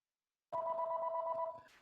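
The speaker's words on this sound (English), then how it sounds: "I was on mute because the phone's ringing." A phone rings once with a steady electronic trill lasting about a second, clear and close, then cuts off.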